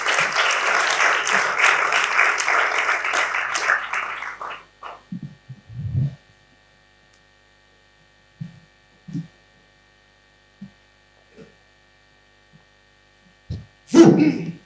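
An audience claps for a law student from the University of Kinshasa introduced at an eloquence contest semi-final. Dense, loud applause runs for about four and a half seconds, then stops abruptly, leaving near silence broken by a few soft thumps and a brief noise at the end.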